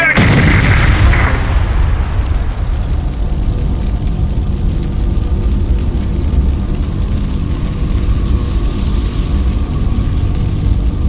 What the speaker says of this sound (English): That ring's loaded! It's a bomb!